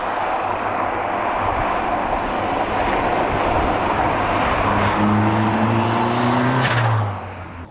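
A 350bhp Ford Escort Cosworth Mk1 with a T34 turbo roars under steady load, its engine note rising in pitch toward the end before cutting off abruptly, loud and close with no voices.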